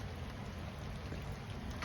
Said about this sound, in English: But definitely we're getting some steady rain here.